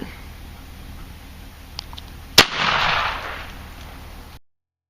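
A single sharp Kimel Kamper KK2 shotgun blast firing triple-aught buckshot, a sudden loud crack followed by a short rushing echo that fades within about two seconds.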